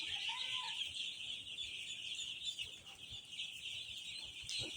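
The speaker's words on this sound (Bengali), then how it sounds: "এখানে 500 হাঁস।" A crowd of about 500 three-day-old ducklings peeps continuously on a duck farm, a dense, steady high chirping chorus that is fairly faint and even throughout.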